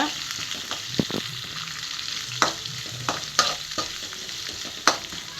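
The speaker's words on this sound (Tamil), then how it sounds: "கருவேப்பிலை போட்டு நல்லா வதக்கிக்கோங்க" Curry leaves and onion sautéing in a pan, a soft steady sizzle broken by several sharp spatula taps and scrapes spaced a second or so apart.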